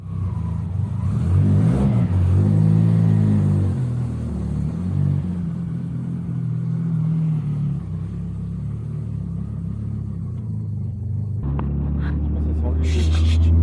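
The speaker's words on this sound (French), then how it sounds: "Écoutez les bruits. C'est la voiture vous parle." A car engine revs and rumbles steadily up close for the whole stretch, rising in pitch early on, with people talking over it.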